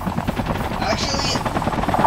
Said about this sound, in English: Drove the helicopter into the tunnel.